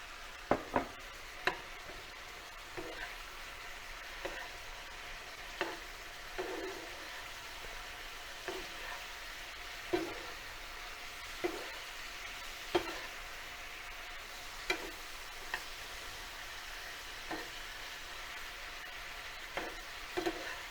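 Broccoli being stir-fried in sauce in a pan for a chicken stir-fry, a steady soft sizzle with regular scraping stirs at close range, no talking.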